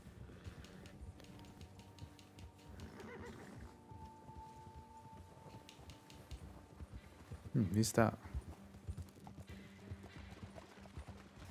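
Horse hooves clip-clopping and a horse neighing in the video game Red Dead Redemption 2, running under game ambience, with a louder burst near the end while a voice talks over it.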